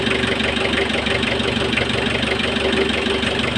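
A vehicle engine runs at idle close by, a steady, continuous rumble with a faint rhythmic knock and no talk over it.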